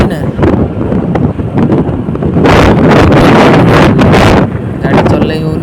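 Strong wind buffets the microphone while riding in a moving vehicle on a road toward the Sai Baba temple at Bari, Jajpur: a loud, continuous roar and rumble with gusty surges, swelling hardest midway through.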